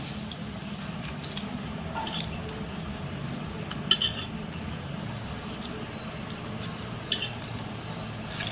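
Mutton is worked by hand in a bowl with marinade and a few bay leaves: steady soft squishing and wet kneading close up, with occasional light clinks of a utensil against the dish.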